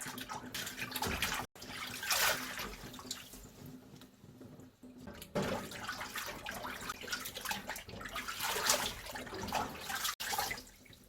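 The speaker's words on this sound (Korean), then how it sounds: "흔들어 씻어줄 거예요" Godeulppaegi greens being shaken and washed in a basin of water, with continuous sloshing, splashing and dripping close by and brief pauses between rounds of agitation.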